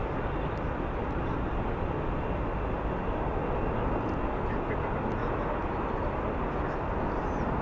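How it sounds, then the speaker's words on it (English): An Airbus A320 airliner takes off at Charlotte Douglas Airport, a steady, broad engine roar heard from a distance that holds evenly throughout with no pauses. "On the takeoff, it looks like we got an Airbus 320 heading to Atlanta."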